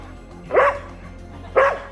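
A dog gives two sharp, loud barks about a second apart, each a short yelping burst close to the microphone over a low background hum.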